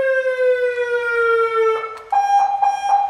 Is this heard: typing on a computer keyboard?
no